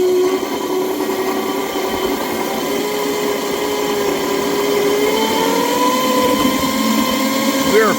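A model train motor runs at full throttle with a steady electric whine that climbs slightly in pitch partway through, while someone talks over it.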